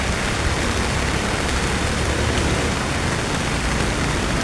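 Heavy rain pours steadily, a dense, constant hiss of water hitting surfaces close by with no breaks.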